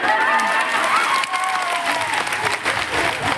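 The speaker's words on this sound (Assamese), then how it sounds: "হাত চাপৰিটো কিয় লাহে লাহে মাৰিছে কিয় জোৰে মাৰা নাই" A gathered audience at a political rally keeps up a dense, steady round of applause, a continuous patter of many hands at even, moderate loudness throughout.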